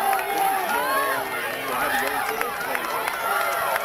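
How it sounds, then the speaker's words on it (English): Spectators at the 65th Annual San Angelo Relays high school track meet cheer and yell continuously during a relay race, steady crowd noise heard alongside a voice talking over it. "Audience cheering them on."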